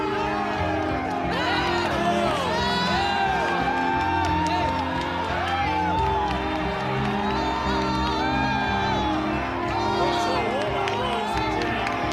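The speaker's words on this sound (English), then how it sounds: "Crowd going wild" A boxing crowd at a welterweight bout roars and whoops continuously and loudly, with shouts and whistles rising over the din while a commentator talks over it.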